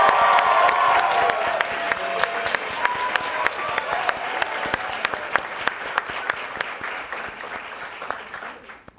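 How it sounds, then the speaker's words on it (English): A full audience applauds at a Q&A event with an actor, steady dense clapping that starts loud and slowly fades over about nine seconds, with a few sharper claps standing out near the end. "So I'd like to give them a round of applause as well."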